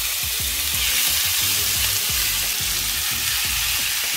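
Meat fries in batches in deep hot oil for llapingacho, producing a loud, unbroken bubbling sizzle with soft low thumps and stirring underneath; no one speaks.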